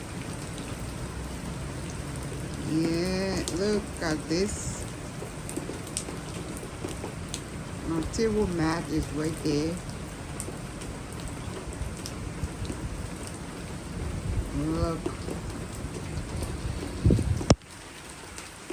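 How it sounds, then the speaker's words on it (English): Heavy rain pours steadily, a loud continuous hiss of drops striking surfaces, with a person speaking over it at times. "The weather is so bad, but I love the sound of the rain."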